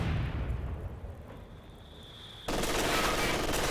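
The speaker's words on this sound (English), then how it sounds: "he's barraging that area with his mortar half-track" Mortar half-track shells from Company of Heroes 2 land in a barrage, a dull rumbling blast followed by an abrupt loud burst of crackling explosions and gunfire filling the last second, with no talk.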